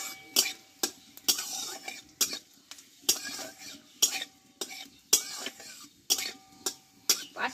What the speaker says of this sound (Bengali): এবার ফোড়নটা একটু ভালো করে ভেজে নেব আমি